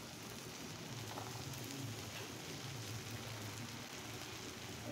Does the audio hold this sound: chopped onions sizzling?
yes